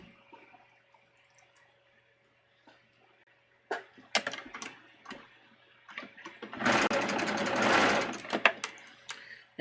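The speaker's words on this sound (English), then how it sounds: "we're gonna serge all the way around the neckline" A serger overlocking around a swimsuit neckline, starting with a few short stitching bursts, then running in a loud, sustained whirring stretch before slowing into brief pulses.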